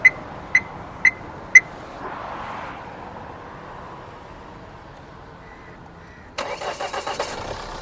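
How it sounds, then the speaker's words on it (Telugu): A 2019 Mahindra XUV500 W9 gives four sharp electronic chirps, then a quiet hum from the vehicle, and near the end a loud burst of rapid, pulsing engine-start sound, close by with no talk. "బండి కూడా స్టార్ట్ చేసి చూపిస్తున్నాను మీకోసం ఒకసారి"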